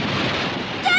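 A dense rushing wash of surf in an animated cartoon fills the clip, a wave breaking close and loud with spray hissing over it.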